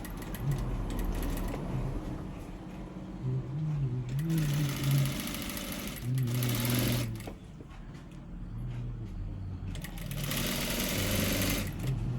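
A high-speed industrial sewing machine stitches garment sleeves and patti strips, whirring steadily and close by with several faster, louder bursts as the stitching runs on, and no talking.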